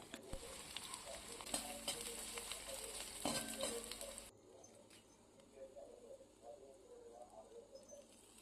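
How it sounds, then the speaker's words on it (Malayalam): Crushed garlic, ginger, cumin and curry leaves sauté in oil for fish pickle, a faint sizzle with stirring that drops to a quieter background midway, where a bird coos softly. "അതിലേക്ക് ചതച്ച വെളുത്തുള്ളി, ഇഞ്ചി, 5-6 ജീരകം, കറിവേപ്പില എന്നിവ നന്നായി വഴറ്റുക"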